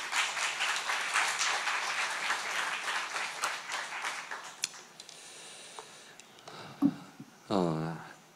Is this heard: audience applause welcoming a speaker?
yes